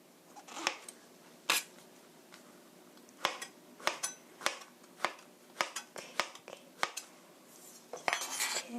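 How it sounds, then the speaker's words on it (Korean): A knife cuts pork on a cutting board for a pork stew, making a series of sharp, irregular knocks close by, about fifteen clean taps over quiet background. "이렇게 썰어서 옆에 두시고요."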